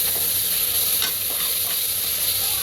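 Ginger-garlic paste fries in a pan for mushroom biryani, giving a loud, continuous sizzle with scraping stirs of a spoon running through it close by.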